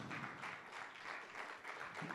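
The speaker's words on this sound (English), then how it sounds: "let's give God a round of applause." Church congregation applauding after a prayer, a steady wash of many hands clapping at moderate distance that holds evenly throughout without any voices over it.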